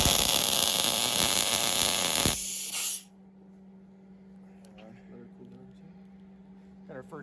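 A loud, steady, harsh hiss lasts about two and a half seconds while a disc brake kit bracket on a Ford 9-inch axle is tack welded, then it cuts off, leaving a low hum and a few faint knocks.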